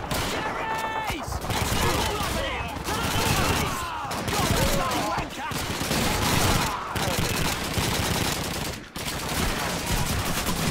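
Sustained machine gun fire in Call of Duty rattles in long loud bursts, with brief gaps, while a voice talks over the shooting.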